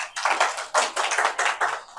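An audience claps for new members joining the NCP at a party event in Akole, a few bursts of moderate hand-clapping rising and fading over two seconds, with no talk.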